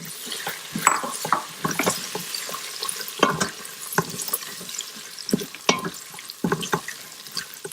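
Green peas sizzle and crackle in hot oil with cooked onion and ginger-garlic paste in an Instant Pot, with scattered stirring scrapes and pops at moderate closeness, no voices.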